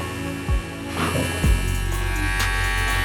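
A VGR V115 or V931 hair clipper buzzes steadily at close range in its turbo speed setting, with a couple of brief clicks near the start before the whirring motor settles into a constant hum.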